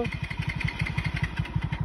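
A motorcycle engine chugs in a fast, even rhythm, close and steady throughout.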